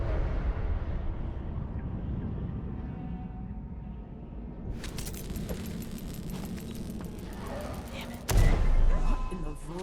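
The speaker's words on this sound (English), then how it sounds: "What in the void was that explosion?" An explosion in a video game bursts out suddenly and loudly near the end, a sharp booming blast rising above ongoing gunfire-like crackles and background game noise.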